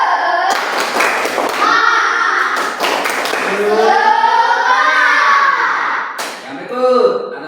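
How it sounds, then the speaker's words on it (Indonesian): A group of children does a rhythmic spirit clap in a classroom lesson, sharp hand claps and thumps in bursts, mixed with loud sung and chanted children's voices close by. "Tepuk semangat."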